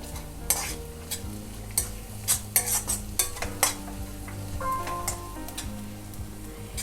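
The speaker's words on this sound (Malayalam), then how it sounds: "അതിട്ട് നല്ലതായിട്ട് ഒന്ന് ഇളക്കുക" A spoon stirs turmeric into ginger, garlic and shallots sautéing in a pan for chicken korma, giving irregular scraping clicks over a steady sizzle, close and fairly loud with no talking.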